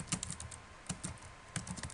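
Quick bursts of key presses on a computer keyboard, close and fairly quiet, coming in three short clusters of clicks across two seconds.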